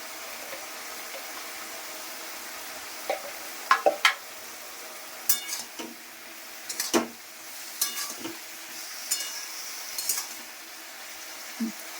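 Home-cooked dish being stirred in a pan as salt and turmeric go in, with a steady low sizzle under a series of light scraping and clinking taps of spoon against metal, scattered irregularly and fairly close.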